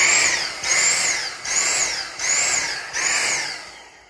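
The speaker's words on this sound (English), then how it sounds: "Make sure I don't make too much noise when I vacuum this bad boy." A battery-powered vacuum cleaner that had a blockage runs with a pulsing whine, surging loudly in four or five regular bursts about every 0.8 seconds, close by and with no talk.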